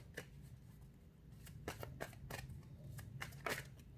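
Tarot cards handled close up, with quiet papery flicks and snaps and one card being bent, a few soft bursts over a low background hum.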